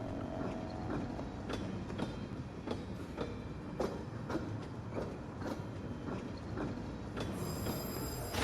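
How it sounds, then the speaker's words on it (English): A train full of coffins in the video game Pathologic 2 rumbles along steadily with repeated clickety-clack wheel knocks at an irregular beat, low and heavy throughout, with a brief hiss near the end. "It's a train full of coffins."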